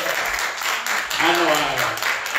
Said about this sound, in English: Everybody that's happy to be here, please give God a hand clap.